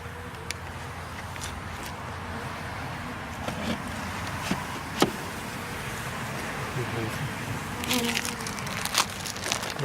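Package honey bees swarm and buzz at close range while being installed in a hive, a dense steady drone with individual bees zipping past the microphone, plus occasional light knocks and faint talk.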